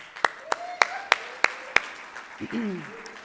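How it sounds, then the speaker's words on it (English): Applause after a hoop dance performance, heard as six sharp, regularly spaced claps close by with a tonal hum behind, followed by a brief voice. "round of applause"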